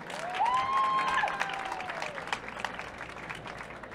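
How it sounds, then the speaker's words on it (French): Audience applause for Armandine at a Vivatech awards talk, a steady patter of many hands clapping in a hall, fairly close, with a few faint whistles or cheers rising over it early on. "Donc un tonnerre d'applaudissements pour Armandine."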